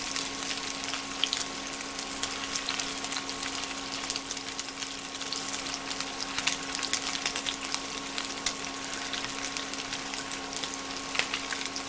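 Small dry-aged beef meatballs frying in a pan, giving a steady, dense sizzle and crackle that carries on without a break over a faint hum.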